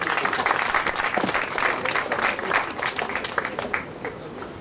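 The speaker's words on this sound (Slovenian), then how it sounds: "En aplavz, seveda, seveda" A crowd applauds a guest being introduced at a venue opening, with a dense, steady run of many hands clapping throughout, fairly close and sustained, while a few voices murmur underneath.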